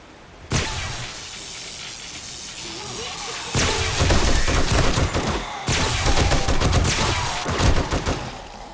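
An M60 machine gun fires in the survival game 7 Days to Die, loud sustained bursts of rapid close gunfire separated by short gaps.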